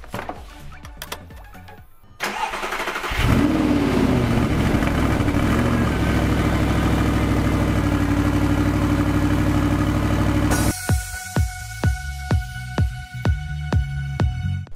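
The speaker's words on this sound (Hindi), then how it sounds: "लास्ट टाइम स्टॉक एग्जॉस्ट का साउंड सुन लो, क्योंकि इसके बाद सुनने को नहीं मिलेगा।" An Audi R8 engine on its stock exhaust runs loud and close, a sustained throbbing drone for several seconds that then breaks into a series of sharp revving blips.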